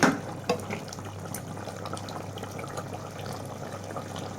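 Hot water poured over beef in a pressure cooker, a splashy pour starting with a sharp onset and then a steady, moderately loud trickle with no talk.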